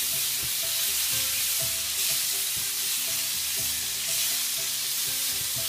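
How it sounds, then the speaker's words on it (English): Wilting spinach is stirred through a hot seafood sauce with salmon and prawns, giving a steady sizzle with repeated scraping stir strokes in a regular rhythm, close and clear with no talking. "And stir that all around. As that spinach wilts in that hot sauce"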